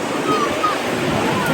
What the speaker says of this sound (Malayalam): വെള്ളം വരുന്നു, വെള്ളം വരുന്നു, വെള്ളം വരുന്നു.